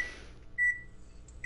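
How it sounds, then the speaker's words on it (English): A microwave oven gives a single short, clear electronic beep, followed after a pause by the start of another, with a faint fading hiss before and quiet room tone between. "making microwave sounds on my stream"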